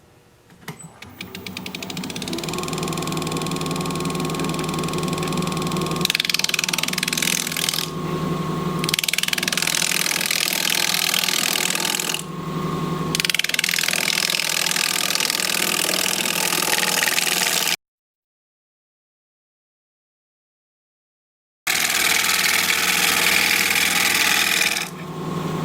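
A wood lathe spins at 1300 RPM while a freshly sharpened 5/8 inch bowl gouge cuts a cork oak bowl, a loud steady motor hum with a rough cutting hiss, broken by brief dips and one clean silent gap.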